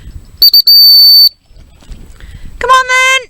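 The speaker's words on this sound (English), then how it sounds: "Let's see what happens if I whistle." Person whistling to call a young German Shorthaired Pointer off-lead on a marsh, two sharp high whistle blasts, the second warbling, loud and close, with faint outdoor background between.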